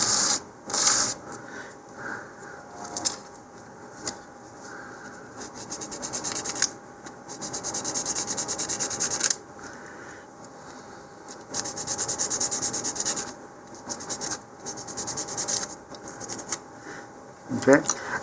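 Model rocket fins for a Mach1 Boost BT-50 kit are sanded by hand in short, scratchy bursts of rubbing, close and fairly quiet, separated by brief pauses.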